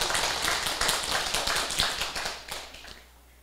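Audience clapping at a lecture session of a Taiwanese political group, a quick run of close, sharp claps in uneven rhythm that fades out after about three seconds.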